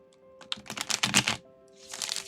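A deck of cards is shuffled once in a quick riffle, a close, crisp burst of dense flicking that halts briefly and ends with a shorter flutter, with no voices.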